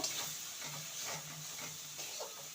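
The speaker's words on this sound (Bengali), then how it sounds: "এবার সমস্ত কিছু ভালো করে কষিয়ে নেব" Onions and spices sautéing in oil in a pan for a Bengali chichinga (snake gourd) curry, giving a steady, soft sizzle with faint stirring scrapes throughout, no voices.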